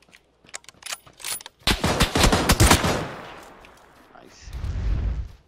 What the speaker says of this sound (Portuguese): Dá um tiro aí, Tom.